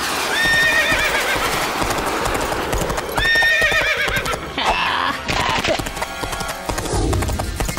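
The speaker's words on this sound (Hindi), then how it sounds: "अरे ये घोड़े आसमान में कैसे दौड़ रहे हैं?" Cartoon horses gallop with rapid, loud clip-clop hoofbeats, and shrill neighs and whinnies rise over the top, all close and busy.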